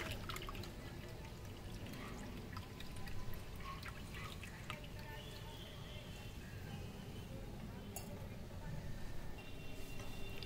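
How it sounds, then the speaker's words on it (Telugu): Cold water is poured over strained soy meal maker chunks in a bowl, making a continuous close splashing pour with trickles and drips for about ten seconds. "ఇప్పుడు వీటి మీద చల్ల వాటర్ పోసుకోండి."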